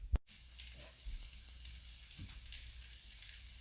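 Chicken thighs browning in a pan give a soft, steady frying sizzle with a sharp clatter near the start and a few faint stirring bumps, quiet and close, with no talking.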